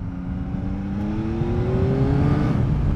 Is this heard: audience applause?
no